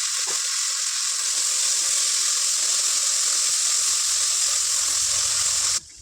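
Steady, loud frying sizzle from onions, mint and coriander in a pan while making fried-piece chicken biryani, continuous broadband hiss for about six seconds before dropping off abruptly at the end, with no talking.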